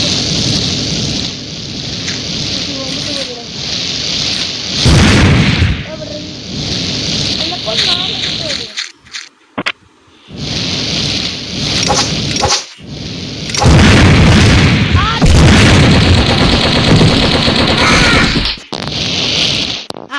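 Booming blasts and crackling bursts of video game gunfire come in waves, loud and chaotic, with brief drop-outs between them and voices talking underneath.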